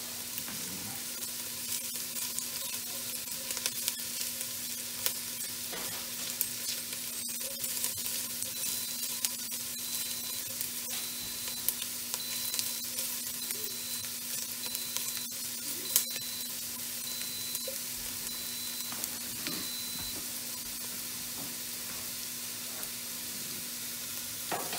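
Onions and carrots fry in oil in a pan, a constant crackling sizzle that holds steady and close throughout with faint occasional stirring, and no one speaks.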